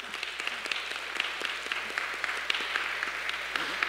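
A church congregation claps during a Sunday service, a moderate, somewhat uneven patter of individual hand claps with distinct sharp hits over a soft background hum, no voices heard.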